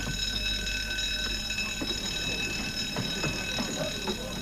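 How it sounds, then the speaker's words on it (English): Loud, continuous electric alarm bell ringing steadily and shrilly aboard the sail training ship Spirit of Malcolm Miller, with faint knocks and movement underneath. "that is the alarm bell, which you all heard"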